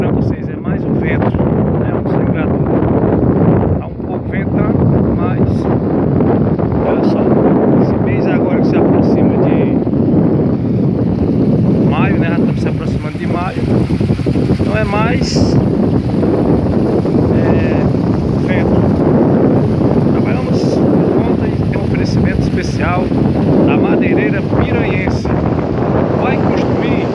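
Strong wind gusts buffet the microphone at a reservoir spillway in Paraíba, a steady loud roar with rushing water beneath, while someone talks over it.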